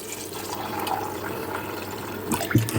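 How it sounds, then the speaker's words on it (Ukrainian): Water poured and sloshing over soaked beans as they are rinsed and refilled, a continuous close running and splashing with a few heavier gurgles near the end. "Воду, в якій вона набухала, ми обов'язково зливаємо, заливаємо свіжою водичкою."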